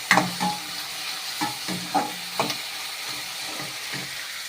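Soft, steady sizzling from a pan while sautéing for potato kurma, with a few clinks and scrapes of a spoon stirring, fairly quiet and close, no talking.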